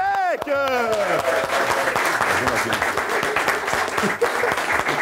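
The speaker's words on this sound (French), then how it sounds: "Un tonnerre d'applaudissements pour Wojtek." Loud, dense applause from a freestyle rap battle audience, opening with a few vocal cheers and then continuing as steady clapping.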